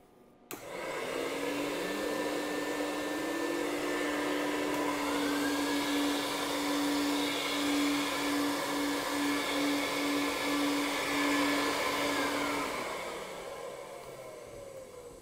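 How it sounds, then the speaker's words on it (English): An ESteam Ninja carpet extractor switches on and runs, pulling suction with a loud, steady motor roar and a whining tone. The sound starts abruptly and continues unbroken, with no speech. "So when that suction is created by the machine being on, this should not spin freely."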